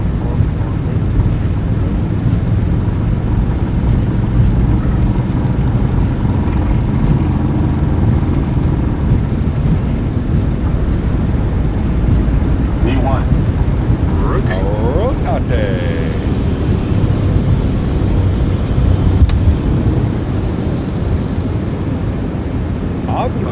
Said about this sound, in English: Takeoff power is set. Long takeoff roll